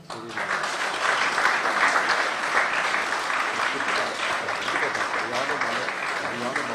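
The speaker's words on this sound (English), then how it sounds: "Amidst a resonating applause" Sustained audience applause at a state formation day ceremony attended by the Tamil Nadu Governor, a full, even wash of many hands clapping at steady volume for several seconds with a faint murmur beneath.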